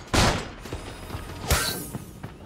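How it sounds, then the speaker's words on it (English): Gunfire in the battle royale game Creative Destruction, two loud sharp bursts about a second and a half apart, with smaller shots and clicks between them. "Okay, someone was shooting from there."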